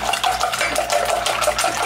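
A kitchen tap runs steadily while hands are washed beneath it, giving a continuous close splashing rush of water with no talking.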